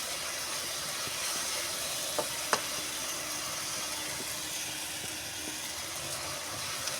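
Sugar fries in a pan while being stirred until it melts, producing a soft, continuous hiss and sizzle, fairly faint, broken only by a couple of small clicks from the stirring.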